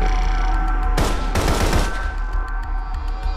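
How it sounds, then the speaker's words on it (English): Rapid bursts of gunfire from the video game Path to Nowhere, a loud dense volley that breaks out suddenly and lasts about a second before fading under steady background music. "The bullets keep coming ceaselessly."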